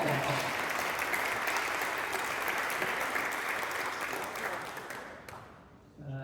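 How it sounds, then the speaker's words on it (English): An audience at a college dean's welcome reception breaks into steady, full applause that holds for several seconds before fading, with a voice returning at the very end. "You can clap for that"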